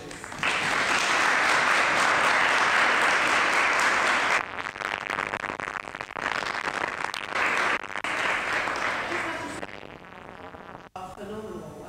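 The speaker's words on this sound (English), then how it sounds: "I just want to give a massive round of applause for our mooters" Loud, sustained applause from an audience at a moot court competition final honoring the mooters, dense clapping for several seconds, then thinning and breaking off near the end with brief voices.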